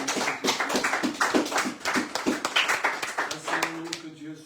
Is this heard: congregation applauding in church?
yes